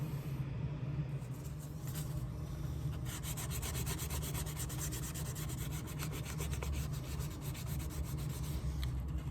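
The edge of an alligator leather shoe sole is sanded during a Polo Ralph Lauren shoe refurbishment, producing a steady, close abrasive rubbing and rasping that runs continuously, with a low motor rumble underneath.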